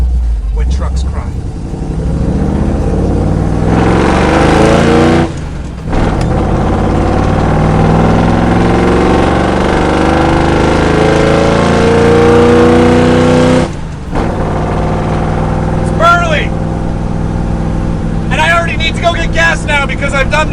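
A 1965 Ford F100 truck engine runs loudly and close, a steady rough rumble with two brief drops, and a voice talks over it near the end.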